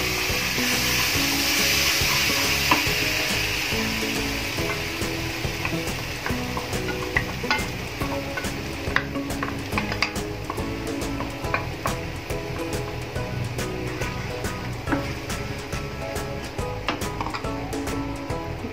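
Spinach paste goes into a hot pan for palak soup, sizzling and frying steadily while a spoon stirs and scrapes with repeated close clicks and rubs, with no talking.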